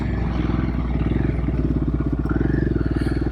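A Royal Enfield Himalayan 450 engine runs on knobby tires, with a loud, steady thumping single-cylinder pulse that rises slightly in pace, heard close up with wind noise and no talk.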